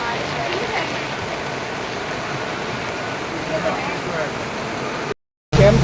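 Heavy rain pours steadily during a stormy trip to a grandmother's house for Kali Puja, a dense, loud hiss of drops on surfaces that continues unbroken, with a brief dropout near the end.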